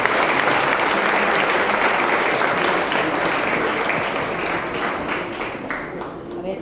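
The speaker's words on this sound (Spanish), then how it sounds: "Muchas gracias y otro aplauso, por favor." Audience applause at a formal public event, a dense sustained wash of many hands clapping that fades slightly toward the end.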